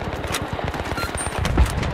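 Rapid automatic gunfire in the console shooter Battlefield 3, a multiplayer match on PS3, with dense repeated shots running through the whole stretch amid battlefield noise.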